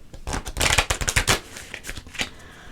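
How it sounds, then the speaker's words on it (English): Oracle cards being shuffled by hand in a brief, close series of papery riffles and taps, fairly loud with no talking. "I'm feeling a couple more shuffles here."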